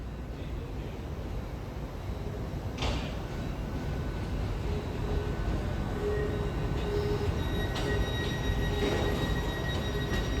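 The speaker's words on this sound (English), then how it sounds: "Arriving now is a Northern service terminate here at Newcastle." A Northern class 158 diesel unit arrives at Newcastle station with a steady, loud rolling rumble throughout, plus faint wheel squeals and brief clanks from the platform.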